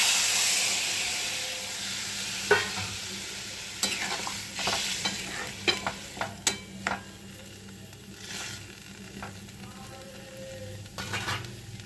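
Food sizzles in a hot pan with Kashmiri chili while a spoon scrapes and stirs it, the steady frying hiss broken by a series of sharp clinks and scrapes of the utensil against the pan.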